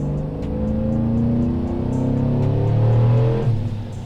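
Procharged 6.2L GMC Denali truck with a cammed engine, locked in gear on a dyno, accelerating hard with a steady rising engine roar and supercharger whine, loud and close.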